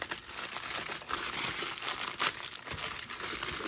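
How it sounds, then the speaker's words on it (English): A package cut open with a knife, heard up close as continuous crinkling and rustling plastic with a brief sharper tearing scrape in the middle, moderately quiet and without talk. "Cut the package."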